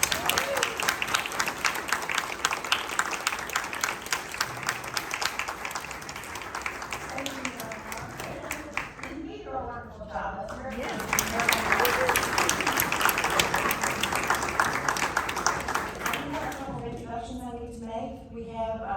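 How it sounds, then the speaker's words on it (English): Audience applause fills a League of Women Voters district forum, a long dense burst of clapping that dips briefly mid-way, swells again, then thins out as a voice begins speaking. "give a big round of applause for these guys"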